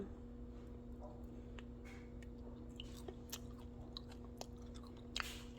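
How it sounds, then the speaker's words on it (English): Chewing on a home-dried, chewy fig, soft close-up mouth sounds with faint sticky squishes and small bites, quiet and intermittent over a low steady background hum. "Wow, chewing."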